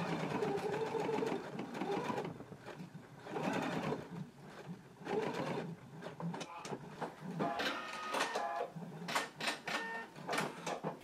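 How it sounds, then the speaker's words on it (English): A sewing machine runs in steady bursts while basting a pants seam, its rapid mechanical stitching rising and pausing, loud and close throughout. "we can take it to the machine and starting at the top, we're going to baste from the upper edge down to the large dot"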